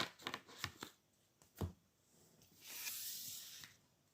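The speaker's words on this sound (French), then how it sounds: "je vais prendre une dernière carte conseil" Oracle cards being shuffled and one drawn from the deck, quiet close crisp flicks and slides in quick bursts, followed by a longer soft hissing swipe, with no voice.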